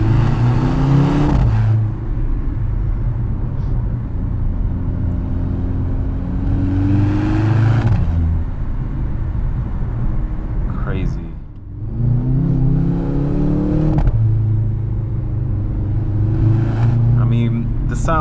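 A 670 BHP Mercedes C63 AMG with a non-V8 engine accelerating hard, repeated surges of engine roar rising in pitch with gear changes and brief dips between pulls, heard from inside the cabin.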